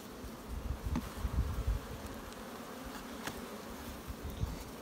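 Faint buzzing of honeybees in a hive cavity, with soft irregular bumps and rustles close by, no voices.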